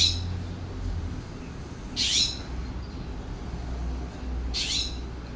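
Wild birds at a backyard water dish in California give two short, bright chirping calls a few seconds apart over a steady low background hum.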